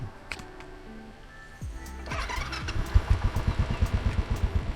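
Motorcycle engine cranks and catches after the clutch is pulled in, settling into a loud, close, rhythmic idle with quick regular pulses.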